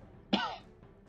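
A single sharp cough, close and fairly loud, bursting out after a quiet stretch and trailing off quickly into low room noise.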